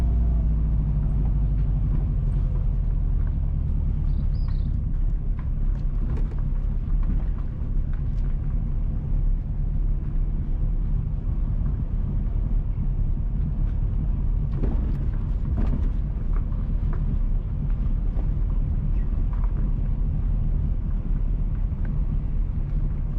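A car drives northeast along a rural road in Trinityville, St. Mary, Jamaica, with a steady low engine and road rumble from inside the cabin and occasional faint knocks and bumps over the surface.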